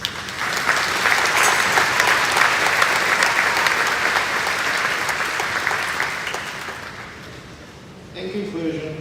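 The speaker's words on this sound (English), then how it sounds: "Let's give them a round of applause" A graduation crowd gives teachers and staff a long, steady round of applause, loud and sustained, fading near the end before a speaker's voice returns.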